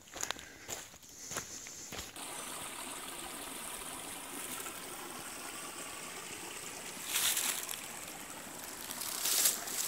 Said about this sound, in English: Another beautiful creek at the bottom of Leader Mountain.